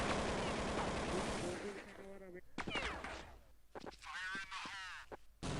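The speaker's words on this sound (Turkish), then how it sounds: "İkili silah kullanıyorum şimdi bak" Dual pistols firing in the Counter-Strike 1.6 video game, heard as sharp, quick shots that come in short clusters amid fading game noise, with some tonal, voice-like sounds between them.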